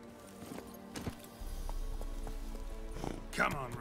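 Hooves of the horse Roach from The Witcher 3 clop along in a steady rhythmic trot, with music and game sounds underneath and a voice speaking over them.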